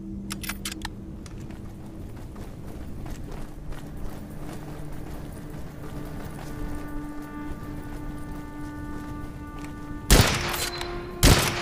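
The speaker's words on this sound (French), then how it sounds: "Oh, un double tir là." Gunfire in the first-person shooter Witchfire: scattered sharp cracks over a low hum of ambience, ending with two loud, close blasts near the end.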